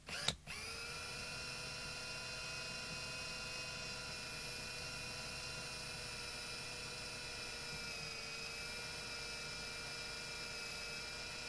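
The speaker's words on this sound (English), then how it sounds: "You'd always drill from the print side," A small electric drill spins steadily while boring a hole into the circuit board of a Sony AC-V515 charger, giving a sustained whining tone after a brief start, close and continuous with no talk.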